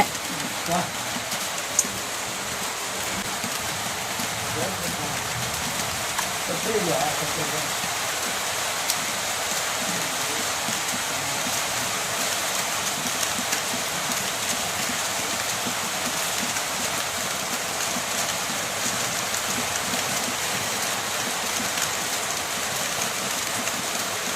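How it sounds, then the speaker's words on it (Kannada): Steady rain falls outdoors, a dense, even hiss of drops that holds at a moderate level for the whole stretch without letting up. "ಮಳೆ ಬಂದ್ಬಿಡ್ತು"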